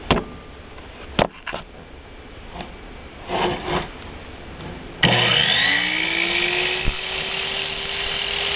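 A power saw in a woodworking shop cutting through two wood pieces held together: a few handling knocks and clicks, then the motor whines up to speed and roars steadily through the cut, loud and close.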